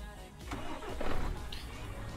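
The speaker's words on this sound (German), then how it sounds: "Motor läuft." Truck engine in Euro Truck Simulator 2 cranking and catching, then running with a steady low rumble that swells briefly. The sound is moderately loud and close, with no talking over it.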